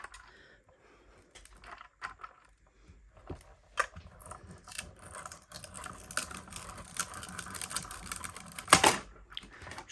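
A mini embossing and die cutting machine runs a plate through, giving a steady mechanical rattle with clicky, crackling bursts and a sharp snap near the end, close and moderately loud, with no talking.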